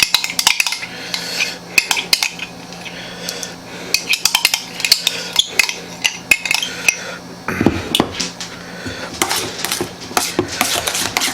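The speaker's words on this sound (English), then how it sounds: "Get it stirred in there pretty good." A spoon stirring sour cream into a chicken and stuffing mixture in a bowl, producing a series of irregular clinks and scrapes against the dish with soft, thick mixing sounds between them.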